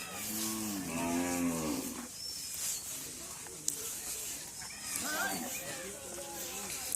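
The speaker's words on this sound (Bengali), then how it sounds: "এবার দেখেন কি পরিমাণে এখানে গরু রয়েছে" Cattle low loudly near the bank of the Padma river, one long moo at the start and another later, with a large herd gathered on a riverside char and steady outdoor background noise.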